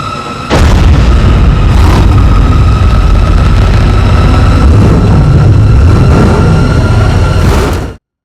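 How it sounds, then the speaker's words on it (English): The Batmobile engine from a Batman film chase scene roars loud and overwhelming, a dense low-frequency rumble that bursts in suddenly and holds steady for about seven seconds before cutting off. A few booming swells come through the roar. "The noise of the Batmobile engine is very loud and to some quite overwhelming."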